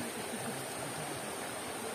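A river stream rushes steadily near a washed-out road by a small bridge at Bhimwali Park, Padampur, a broad unbroken watery roar, close and constant with no voices.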